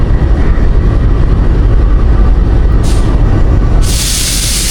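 Green Line Express train pulling out of Margalla railway station in Islamabad, a steady loud low rumble of engine and rolling wagons throughout, with a brief hiss near the end like an air brake release.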